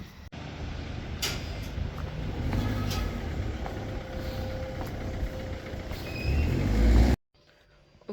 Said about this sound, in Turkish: Ne zaman kamerayı açsam arabalar geçiyor